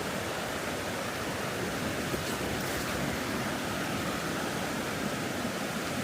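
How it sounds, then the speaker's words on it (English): Fast-moving river water rushes over rocks at an Appalachian Trail crossing in the 100 Mile Wilderness, a steady, loud, broadband roar that stays unbroken throughout with no talking. "Some pretty fast moving water."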